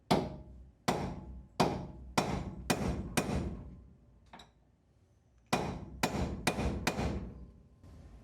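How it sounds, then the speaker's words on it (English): Heavy hammer blows strike a stuck steel pin in a classic Porsche 911's front suspension, about a dozen sharp ringing hits in two quick rounds with a pause between. "I'm going with the next biggest hammer and see if we can just get it to break loose"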